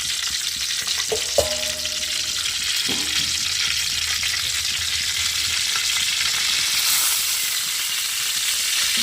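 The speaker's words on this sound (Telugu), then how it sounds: "జీలకర్ర అయితే వేగుతుంది కదండి" Cumin seeds frying in heated oil in a pan, a continuous close crackling sizzle with a couple of sharp utensil clinks early on, no voices.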